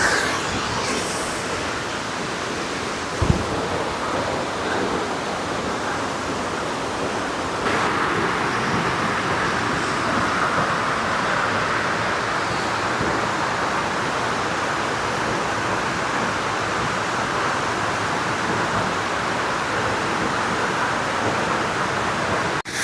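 Bongadari Waterfalls at Aradakota rushes in a dense, continuous roar that stays loud and steady throughout, with one brief sharp knock early on.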